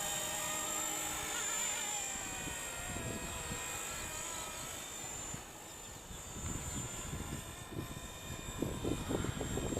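An RC MicroHeli S300C helicopter with a three-blade head and AliExpress motors flies nearby, its steady high-pitched rotor and motor whine rising and falling as it manoeuvres, and it grows louder toward the end.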